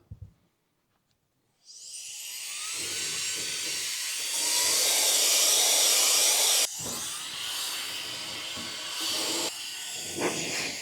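An electric rechargeable 300,000 RPM air duster blower spins up and runs as a loud, steady high-pitched whine and hiss, with shifts in intensity and a few brief changes in pitch.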